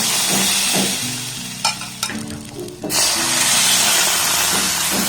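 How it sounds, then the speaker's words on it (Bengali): A ladle of rice batter hits hot oil in a kadai and sizzles loudly and steadily, with a brief stirring scrape and a clatter mid-way before the hiss resumes. "এবার তেল দিয়ে কড়াটাকে আর একটু গরম করে নেব এবার এক হাতা ব্যাটার আমি এর মধ্যে দিয়ে দিলাম"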